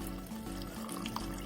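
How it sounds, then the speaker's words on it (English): Water poured into a pot of thick, bubbling Mexican soup on the stove, a steady close liquid splashing and trickling that continues evenly for about a second and a half. "I'm going to add a little bit more water because I can see it's a little thick."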